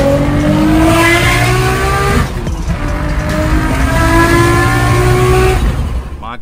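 A 1000-horsepower Nissan Skyline GTR with manual transmission is driven hard, its engine loud and close, climbing through rising revs, dipping at a gear change, then pulling up again and cutting off abruptly at the end.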